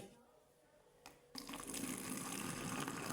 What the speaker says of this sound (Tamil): இந்த கப்பில் கப்பில் கொஞ்சம் தண்ணி ஊற்றணும்